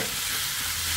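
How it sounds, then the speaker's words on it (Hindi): Sliced radish and potato fry in a pan, a steady close sizzle with soft stirring scrapes running through the whole short stretch, no voices. "तो हम अच्छे से जो है इसको फ्राई कर लेते हैं।"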